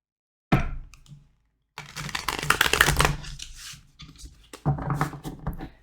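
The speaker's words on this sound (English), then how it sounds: "I'm gonna shuffle this deck and then just split it in half, because this deck's kind of hard to shuffle." A deck of tarot cards is shuffled close up in two bursts of rapid riffling and flicking, separated by a brief silence, with a short fainter burst of card noise at the very start.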